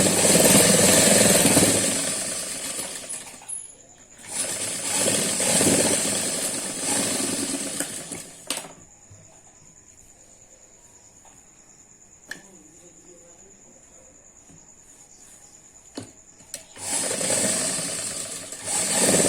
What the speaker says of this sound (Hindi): अब हम इसे इस तरह से पकड़ेंगे और हम सिलाई लगा लेंगे